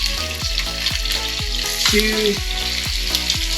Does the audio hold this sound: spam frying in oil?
yes